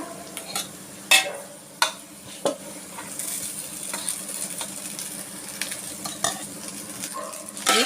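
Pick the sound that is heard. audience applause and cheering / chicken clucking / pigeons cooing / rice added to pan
rice added to pan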